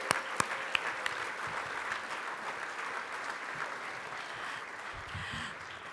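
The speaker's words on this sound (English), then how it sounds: "Please, a round of applause" A gala dinner audience applauds in a steady, moderately loud wash of clapping from a large room, with a few sharper claps close by at the start.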